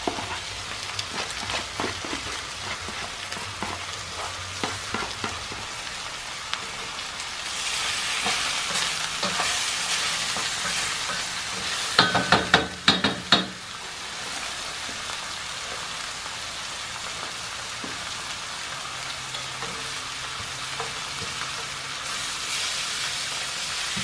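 A bisteca pork chop fries in a pan at home, a steady close hiss and crackle of sizzling fat that runs the whole time, with a brief clatter of utensils midway.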